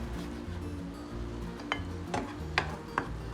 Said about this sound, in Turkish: Domateslerimizi şöyle bir karıştıralım.